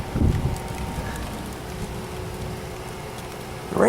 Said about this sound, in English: Raining heavy,